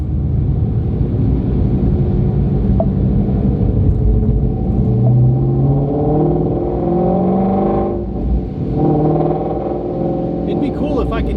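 Steady engine rumble from a Ford Shelby GT350R on a short drive, heard from inside the cabin, continuous and fairly loud with mild swells as it accelerates, and talk running over it.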